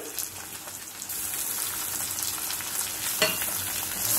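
Chopped medium-sized tomato dropped into browned onion in a pan for chole masala: loud, continuous sizzling and frying with stirring scrapes and a soft clack, no voices.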